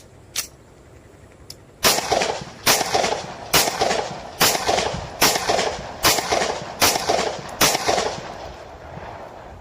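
A 30 bore 14-shot pistol test-fired outdoors: two faint clicks, then eight sharp, loud gunshots fired at a steady rhythm about a second apart, each with a short echoing tail.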